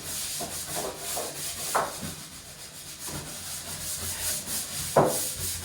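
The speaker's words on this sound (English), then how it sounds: "The brush then to get in all the joints. Make sure you rub it real hard." A stiff brush scrubs hard along the grout joints of a wet room's tiled floor, giving a steady rasping rub in repeated close strokes with a few sharper scrapes.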